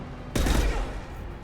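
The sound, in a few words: gunfire in the video game Mass Effect 2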